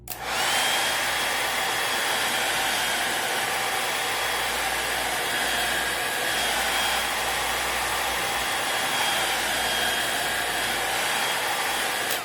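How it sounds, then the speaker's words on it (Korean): Hair dryer blowing hot air onto a Galaxy Tab S3 9.7 tablet display assembly to soften adhesive, a steady close whooshing drone with a faint whine, continuous for the full length with no talking. "그래서 이제 드라이기로 하는 거죠."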